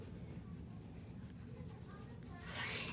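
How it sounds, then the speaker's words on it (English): Faint scratching of a pen writing a name on folded paper, soft strokes close to the mic, with a louder rustle of paper at the end. "I can write my name."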